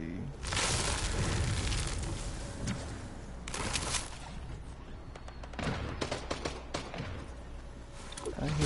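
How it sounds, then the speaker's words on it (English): Bursts of gunfire in the video game Fortnite, several volleys of rapid shots scattered through the clip with loud, sharp peaks, heard under a steady game soundscape with some talking. "I hear gunfire this direction."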